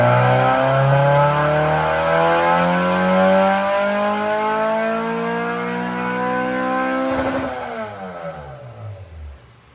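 A Honda S2000 engine with a two-and-a-half-inch exhaust revs hard and loud, pitch climbing steadily through the gears before dropping off and fading near the end; no voices.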